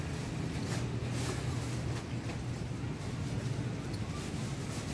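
Wind blows steadily outdoors at a bahay kubo build site, a constant low rushing roar with microphone buffeting, with no voices.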